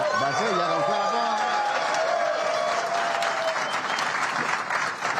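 An audience at a union town hall breaks into sustained applause that holds steady for several seconds, mixed with crowd noise and someone talking over it.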